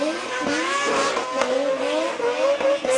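A seven-rotor rotary-engine drift car spins donuts at Mondello Park, its high, rising engine wail layered over screeching tire squeal, loud and close throughout.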